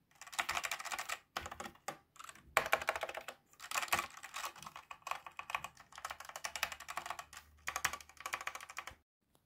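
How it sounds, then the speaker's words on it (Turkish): Pusat K3 Pro mechanical gaming keyboard keys clatter in quick bursts of crisp clicks, pausing briefly between runs of typing, close and clear. "Şöyle tuş sesini de dinleyin."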